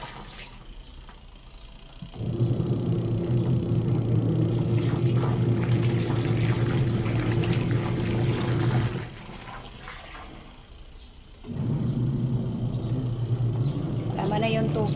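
Water runs steadily into a container in a household setting, a loud rushing stream that stops for a couple of seconds and then starts again.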